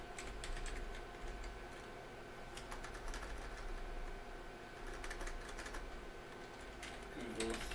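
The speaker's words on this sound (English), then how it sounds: "we're going to type Python" Computer keyboard keys tapped in quick, uneven bursts while a command is entered in a terminal on a Raspberry Pi setup, moderately close over steady background hum.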